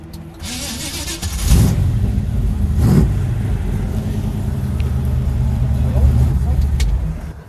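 A car engine idling loudly nearby, then blipped twice in quick revs before settling back to a steady rumble, with voices faintly underneath.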